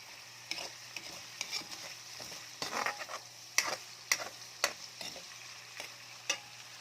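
Ground pork fries in its own rendered fat for a Filipino bottle gourd dish. A quiet sizzle runs under irregular spatula scrapes and taps against the pan.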